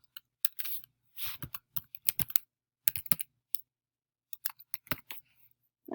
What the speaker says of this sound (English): you can type in your email